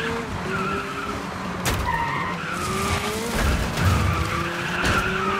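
Tyres skidding as a car oversteers in the Dirt 5 racing video game, a continuous squeal with a steady engine drone and small wavering pitch shifts over about five seconds.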